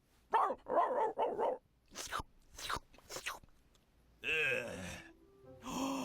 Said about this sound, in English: This dog really talks. Just listen for once in your life.